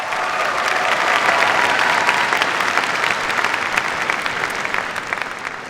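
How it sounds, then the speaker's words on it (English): Sustained, loud applause from a graduation audience at a computer science and engineering ceremony, steady dense clapping for several seconds with no voices on top. "Let's get another round of applause."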